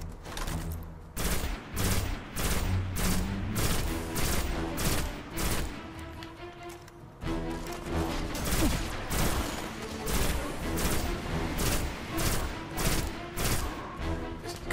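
Rapid bursts of gunfire from the video game Destiny, loud and close, with repeated sharp shots in quick clusters over a busy game backdrop, no voices.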